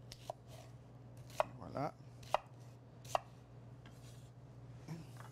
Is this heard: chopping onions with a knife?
yes